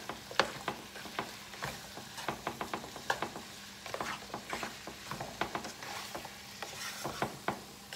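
Beef browning in a pot for carne con papas, a soft steady sizzle with scattered clicks and scrapes from stirring, close by and alone with no talk.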